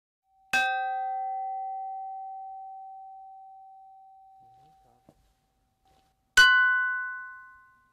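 Two clear strikes on pyeongyeong, Korean stone chimes tuned by stone thickness, several seconds apart, each ringing with a pure sustained tone that slowly fades into silence.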